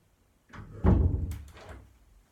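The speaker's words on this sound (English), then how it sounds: "And close this door." A door is pushed shut indoors with a soft thud and a short rumble, close by and fairly quiet.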